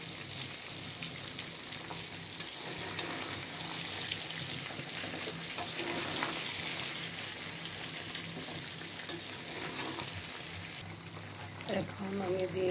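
Garlic dropped into hot oil for a mango pickle, a steady crackling sizzle throughout, moderately close, with a voice speaking over it.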